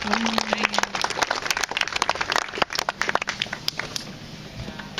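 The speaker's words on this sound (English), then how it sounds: "give her a round of applause, everyone" Crowd on the upper deck of a fort clapping with loud, irregular overlapping claps across the whole stretch, thinning slightly toward the end.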